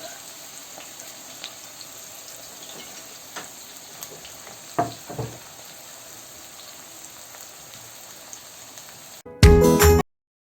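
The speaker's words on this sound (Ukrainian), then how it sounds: "Бачите, для смажки використовуємо класичну китайську сковородку" Soft steady sizzling of mushrooms and onion in a Chinese wok with occasional scrapes and clinks of stirring, ending in a brief loud burst of clatter.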